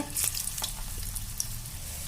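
Capsicum pakoda frying in a pan of medium-depth oil, a steady close sizzle with soft crackling and a few brief clicks, no voices.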